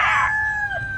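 A loud, warbling cluck-like call with a sustained tonal wail, sounding like a chicken imitating a siren, close and alone.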